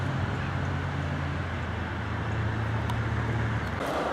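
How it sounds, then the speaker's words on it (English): Traffic from a main road near Albury in the Surrey countryside rumbles as a steady distant wash of passing vehicles, heard on a walk from Guildford to Gomshall with wind noise throughout. "Hear the traffic now from the main road."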